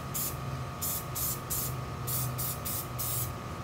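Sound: Krylon spray paint being sprayed onto plastic

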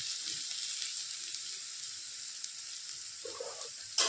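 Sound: potatoes frying in oil for veg chowmein

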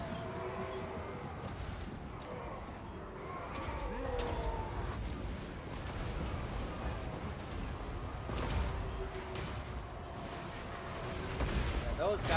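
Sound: artillery bombardment in Total War: Warhammer video game

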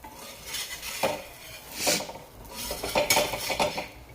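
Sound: flipping a sprouted-lentil pancake on a tawa

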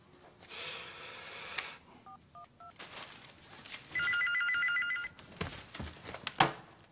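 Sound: telephone ringing

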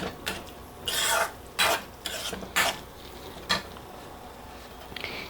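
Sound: mashing cooked eggplant with a spoon

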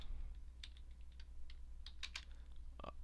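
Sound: typing code on a computer keyboard

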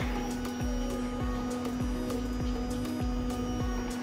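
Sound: DC water pump and air dryer running on floor cleaning machine

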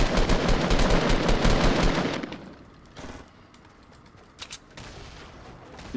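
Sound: grenade launcher fire in video game Fortnite

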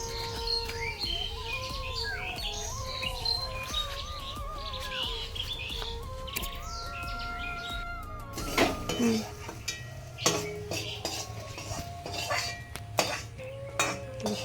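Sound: metal wok (kadai) clattering

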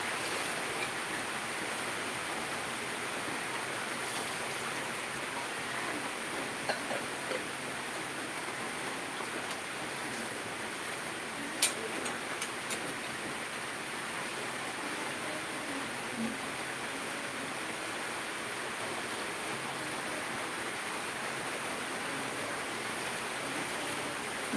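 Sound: heavy rain

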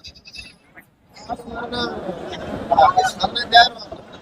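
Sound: goats bleating at a goat market

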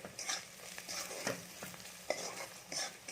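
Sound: spices frying in a pan

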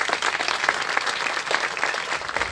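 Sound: audience applause for the band

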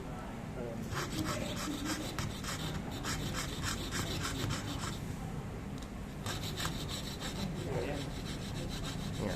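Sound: fretsaw cutting mother-of-pearl shell

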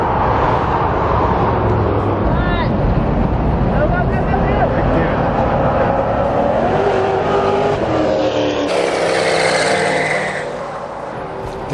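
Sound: Duramax diesel truck racing by on a NASCAR track

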